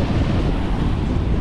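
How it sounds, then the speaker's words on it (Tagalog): Strong wind buffets a wide-angle action camera by the sea during monsoon weather, a loud, continuous roar of broadband rushing with no pauses and surf mixed into the gusts. "Ang lakas ng hangin."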